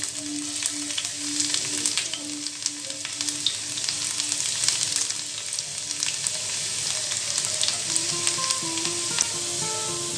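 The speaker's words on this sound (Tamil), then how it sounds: "எண்ணெய் நல்லா சூடாக இருந்ததுனால சீக்கிரமாக பொரிஞ்சிருச்சு" Two small cloves of finely chopped garlic fry in hot oil in a pan, crackling with a steady sizzle and occasional light pops and utensil taps.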